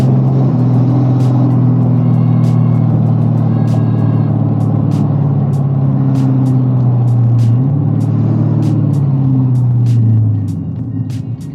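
A turbocharged Dodge SRT8 Challenger drives through a residential neighborhood, its engine a loud, steady droning rumble with a brief shift in pitch midway, easing off near the end.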